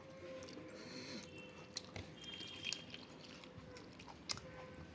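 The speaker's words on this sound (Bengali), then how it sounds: "বেশটা ডাল ঢেলে নিয়েছি, দেখেছো?" Dal poured over a plate of cooked rice, a quiet wet squishing and dripping with a few soft splats against steady low background noise.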